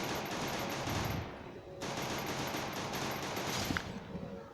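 Bursts of automatic gunfire in the video game Free Fire Clash Squad, loud, dense rattling volleys that break off briefly and then resume, with a few sharper single shots near the end.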